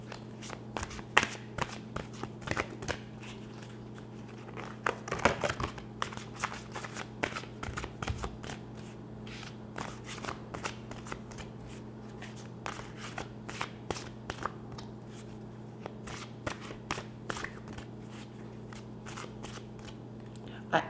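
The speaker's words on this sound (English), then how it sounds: "I don't know how people shuffle this deck." Tarot cards from a large, hard-to-handle deck are shuffled and riffled over and over, giving a steady run of soft papery flicks and crisp slaps, close and fairly quiet, with a faint steady hum underneath.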